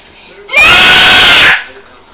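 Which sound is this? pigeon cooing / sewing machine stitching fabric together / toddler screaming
toddler screaming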